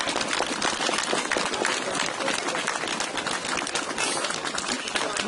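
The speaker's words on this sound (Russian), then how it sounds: "совершенно справедливо аплодисменты здесь, на этой площади, сегодня нарастают" Dense, sustained applause from a large outdoor crowd gathered in a town square for a monument unveiling, steady and loud throughout with no pauses.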